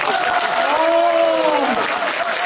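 Loud, dense audience applause fills a hall at a political talk concert. It is steady and continuous throughout, with a brief rising and falling tonal sound running over it in the middle.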